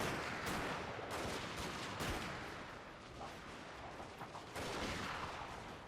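Infantry gunfire from a Total War: Fall of the Samurai battle, a dense, distant crackle of overlapping musket volleys with periodic heavier bursts, steady and unbroken.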